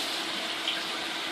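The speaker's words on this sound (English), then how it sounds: "Open faucet to lukewarm water." An open faucet runs lukewarm water into a sink in a steady, close hiss with no talking.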